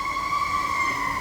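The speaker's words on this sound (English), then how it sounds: "ambulance" An emergency vehicle siren sounds loud and steady, a sustained wailing tone holding throughout with a low engine rumble beneath, and no one talking.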